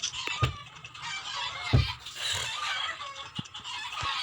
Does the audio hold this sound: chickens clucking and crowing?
yes